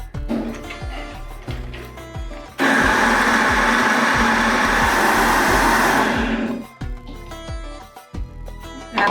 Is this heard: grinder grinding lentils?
yes